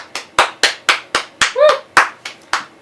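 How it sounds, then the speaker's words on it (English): At a horror awards show, a single pair of hands claps in a steady, evenly spaced rhythm, close and crisp, about ten claps in under three seconds, with a brief vocal sound midway. "Give it a round of applause."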